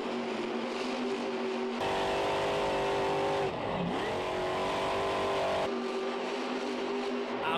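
A monster truck engine roars steadily during a freestyle run at a Monster Jam show in Detroit, revving hard through cyclones with a sustained loud drone that dips and swells in pitch.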